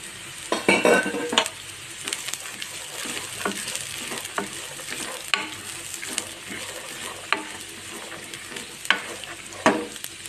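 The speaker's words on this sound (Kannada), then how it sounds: "ಈ ರೀತಿ ತುಪ್ಪ ಹಾಕ್ಕೊಂಡು ಈ ಬೇಳೆನ ಹಾಕ್ಕೊಂಡು ಇವನ್ನ ಫ್ರೈ ಮಾಡ್ತೀನಿ ಈಗ" Chana dal frying in ghee in a pan, a steady sizzle broken by irregular scraping stirs and light clinks of a spoon against metal, close and moderately loud with no talking.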